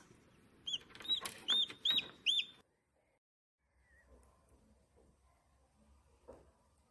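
A newly hatched chick gives a short run of four or five high, thin peeps, close and clear, followed by quiet with faint low background noise.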